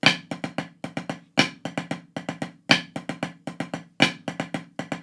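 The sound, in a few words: snare drum flam drag pattern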